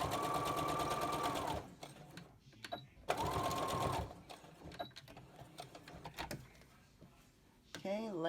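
A sewing machine stitches a cotton mask in two quick bursts of rapid mechanical whirring, the second a short reverse run, with a soft voice briefly heard toward the end.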